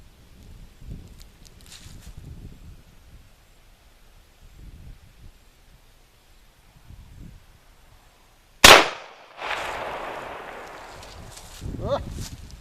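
A single loud, close shotgun blast from a Maverick 88 firing number one buckshot, with a sharp crack and a short decaying tail, after quiet rustling and a voice talking.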